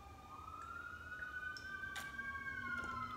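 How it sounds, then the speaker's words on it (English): Sirens wail faintly in the distance, a slowly rising and falling tone drifting over quiet background noise with a few soft clicks. "Don't know if you can hear those sirens in the background"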